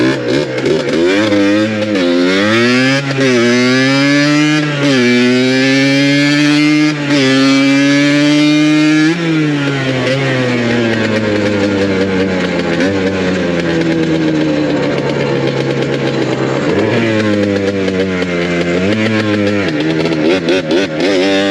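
A Yamaha Blaster ATV engine on a ride, loud and close, revving up and down repeatedly, its pitch climbing with each pull and dropping at shifts, then settling into a longer steady drone with further swells.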